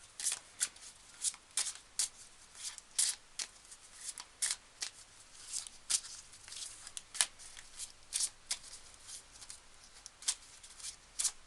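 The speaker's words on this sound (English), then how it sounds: "I will pull some more cards as usual." Tarot cards are shuffled by hand in a quiet room, a crisp rhythmic riffling and slapping repeated in steady bursts every second or so, close and clear with no talking.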